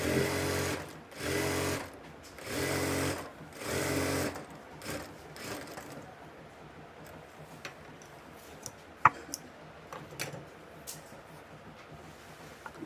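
A sewing machine runs in four loud, even bursts while double-stitching a kameez, then falls quiet apart from scattered light ticks and clicks.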